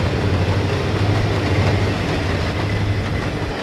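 Trains on the Erie Lackawanna railroad near West End Junction roll past close by, a continuous rumble of wheels on rail with a low engine drone and faint rhythmic clatter throughout.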